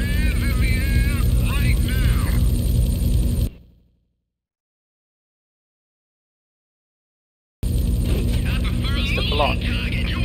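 Helicopter in Grand Theft Auto III, a steady whirring engine drone with game effects and a voice over it, cutting to total silence for about four seconds before resuming.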